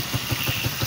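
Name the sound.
2010 TMX 155 motorcycle engine running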